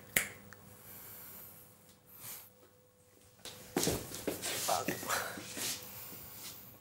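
A hypnotist's finger snap ends a trance: one sharp, close snap at the very start, followed by soft breathy sounds and quiet talking.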